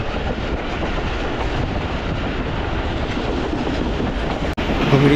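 A Pakistan Express train runs between Rawalpindi and Dina, a loud, continuous rumble of carriages with steady clattering wheels throughout and one sharp click near the end.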